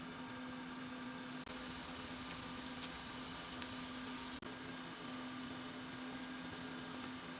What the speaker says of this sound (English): Add all blended dry fruits. Fry it on medium flame.